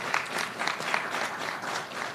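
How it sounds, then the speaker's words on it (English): Audience applause at an official event honoring public works crews in East Orange, a steady dense burst of clapping from a sizable crowd, fairly close and even throughout. "give them a round of applause"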